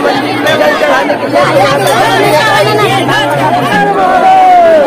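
A dense crowd of devotees packed into a Shiva temple at the Mahashivratri fair, a steady loud babble of many voices close around, with someone speaking over the hubbub.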